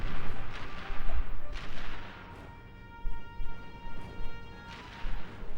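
A mounted turret in a Ratchet and Clank game fires heavy booming shots in spaced bursts with a slow rate of fire, each blast followed by a ringing tail and a quieter lull between volleys.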